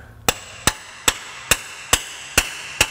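A hammer strikes an old socket to drive a part through on a Ford 8.8 rear axle assembly, seven sharp metallic blows at an even, unhurried pace, close and clear with nothing else heard.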